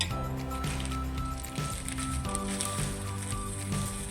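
Sesame cake powder is tipped into a pot of boiled broad beans, making soft squishy, rustling pours and stirs close up, with no talking.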